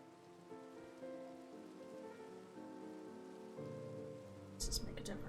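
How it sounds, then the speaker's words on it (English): Rain falling in a Minecraft video game: a steady, soft patter beneath layered sustained music tones, with a brief sharper clatter near the end. "It's raining outside."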